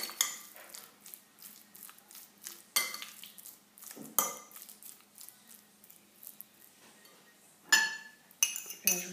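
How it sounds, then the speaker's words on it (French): Potatoes being roughly crushed in a bowl for brick pastry filling, with clinks of utensil on dish, soft squashing pats and scrapes in irregular bursts, close and moderately loud, no talking. "Je vais commencer par écraser un petit peu les pommes de terre."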